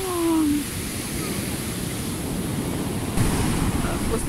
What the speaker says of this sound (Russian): У, какая волна пришла.